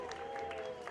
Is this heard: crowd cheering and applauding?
yes